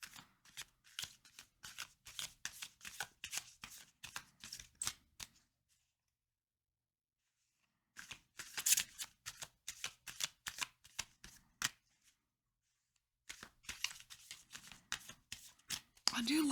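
Tarot cards are shuffled in close, crisp bursts of rapid riffling and slapping, three stretches broken by two quiet gaps, with no voice over them.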